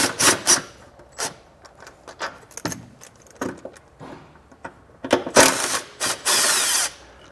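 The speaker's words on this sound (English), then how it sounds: "There's 2 fasteners there we're going to remove with a 13mm socket." Close ratcheting and clattering from a 13mm socket wrench removing exhaust hanger bolts under the frame of a 2019 Jeep Cherokee, with irregular bursts of metallic clicks and spinning, louder toward the end.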